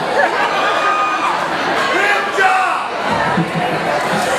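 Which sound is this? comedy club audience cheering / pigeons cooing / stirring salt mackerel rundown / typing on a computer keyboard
comedy club audience cheering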